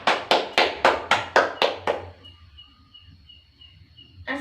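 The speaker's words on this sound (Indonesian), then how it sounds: "Beri tepuk tangan." A class of students in an Indonesian-language lesson claps together in about eight slow, unified beats, loud and near. It then stops into quiet room tone with faint birdsong or insect chirps in the background.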